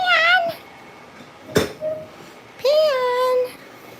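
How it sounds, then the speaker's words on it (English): A pet cat meows indoors, giving a short meow, a brief pause, then a longer drawn-out meow, close and clear with faint household noise between calls. "Can you meow for everybody?"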